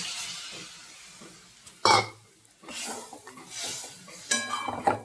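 Vegetarian chickpea ghugni stirred in a pan, soft intermittent scraping and a few sharper metallic clinks of a spoon against the pot, quiet between strokes with no speech.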